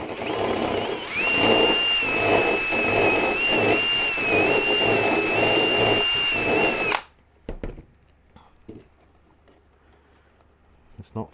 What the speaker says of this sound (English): I'm going to use the boring tool and just try and just ream that hole out.